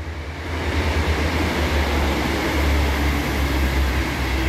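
British Rail Class 156 and 158 diesel trains pass close by at Millhouses Park with a loud, sustained low rumble and engine drone that holds steady throughout.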